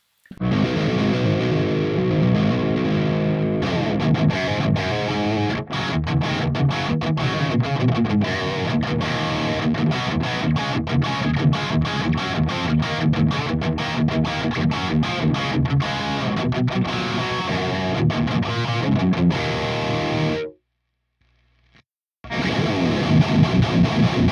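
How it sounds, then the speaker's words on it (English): A metal electric guitar plays through an Audio Assault AHM 5050 amp plugin at high gain, with dense, distorted riffs and chugging palm-muted rhythm. It plays loud and continuous, then stops for a brief gap before resuming. "You can come from semi broken up crunchy tones all the way up to really super metal, punchy, brutal high gain tones."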